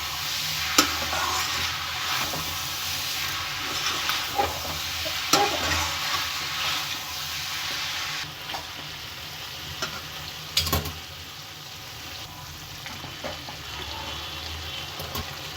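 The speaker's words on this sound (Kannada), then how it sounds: "ಹಾಕೊಂಡು ಇದನ್ನು ಕ್ಲೀನಾಗಿ ಮಿಕ್ಸ್ ಮಾಡ್ಕೊಳ್ಳೋಣ" Salted chicken pieces for street-style chicken chitranna fry with a steady sizzle in a pan while a spoon stirs and scrapes, giving occasional clacks against the metal over continuous hissing.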